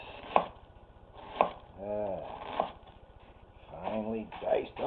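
Onions being finely diced with a knife on a board: a few sharp, separate chops spaced about a second apart, while a person talks between the strikes.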